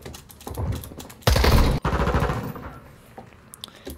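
Rapid automatic gunfire in the video game Call of Duty: Modern Warfare 2 beta, a dense burst of shots peaking mid-clip after scattered single shots, with lighter clicks and faint shots trailing off.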